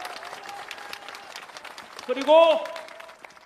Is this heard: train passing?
no